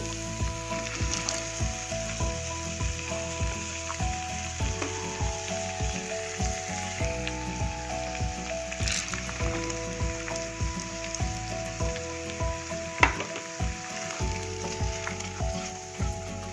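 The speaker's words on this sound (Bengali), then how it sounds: "এবার অ্যাড করব ভিজিয়ে রাখা ডাল।" Soaked dal lentils frying in a hot pan for a tarka, a steady close sizzle with a regular tapping of stirring throughout, no talking.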